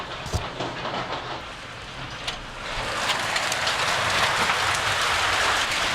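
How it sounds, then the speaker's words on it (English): Hail pelting down during a hailstorm, a dense steady patter that builds to a louder, continuous rattle after a few seconds, with no talking. "sounds like the hail started again"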